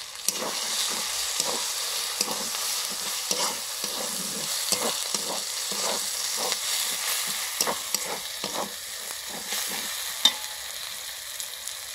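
Spice masala of chili, turmeric and red chili powder sizzles in a pan for chana masala while a spoon scrapes and stirs in a steady rhythm, with a constant frying hiss and no talking.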